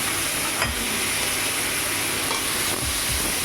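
Bay leaf and ground spice paste fry in oil in a kadai while a Bengali koi fish curry is cooked, giving a steady dense sizzle with a few soft stirring scrapes and no talk.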